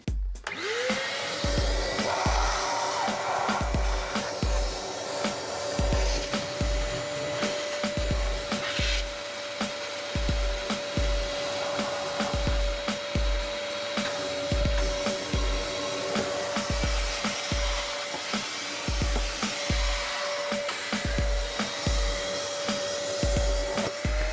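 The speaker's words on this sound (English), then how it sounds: "put the vacuum on it and suck out all the gunk that's probably sitting inside it" A wet vacuum sucks gunk out of a blocked drain, roaring steadily with a constant motor whine. Regular rhythmic knocking thuds from the shaking vacuum hose continue throughout, no voices.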